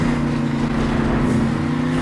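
El Toro Loco monster truck engine roaring steadily during a Monster Jam race, a loud continuous drone with a strong low hum and no pauses.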